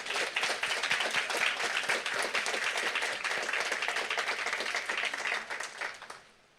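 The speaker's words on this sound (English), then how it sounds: "Let's clap again." An audience claps at a charity giving event, a dense, steady burst of many hands that keeps up strongly before fading out near the end.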